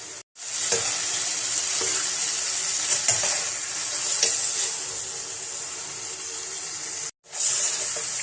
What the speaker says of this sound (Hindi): तो अब हम इनको फ्राई कर लेंगे अच्छा सा।